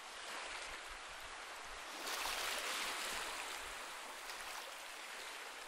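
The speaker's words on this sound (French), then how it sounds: "Le son des vagues te berce." Ocean waves in a children's relaxation setting, a soft, continuous broadband wash that swells gently in the middle as a wave rolls in, then settles back, faint and distant with no voices.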